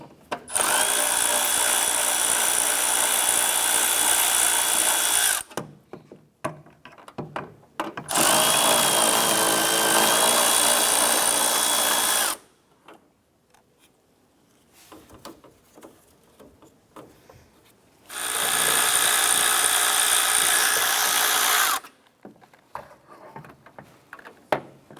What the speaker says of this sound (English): Using a number 7 socket, we're going to go ahead and remove this series of the bolts across our cover here.